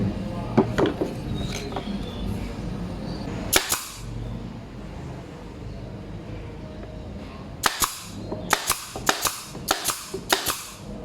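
A nail gun firing into wooden trim while building a product display cabinet, giving sharp, loud snapping shots, a few early and then a rapid cluster of five or six toward the end over faint background noise.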